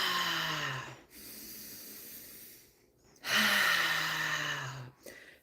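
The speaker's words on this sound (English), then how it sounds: "Breathe in a little bit more to get oxygen to every cell in the body." Deep, drawn-out breaths in a guided breathing exercise: two long, loud inhalations, each rising in pitch and lasting a couple of seconds, separated by softer exhalations and short pauses, close to the microphone with no talking.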